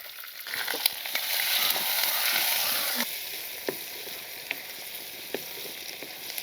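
Sliced onion and green chillies frying in hot tempering oil, a loud steady sizzle with scattered crackles and pops, then quieter sizzling broken by occasional sharp ticks, and no talk.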